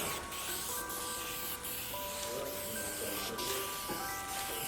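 A continuous, steady hiss of a red aerosol spray paint can on a Peterbilt 389 truck runs throughout, broken by a few faint tonal whines, with no one speaking.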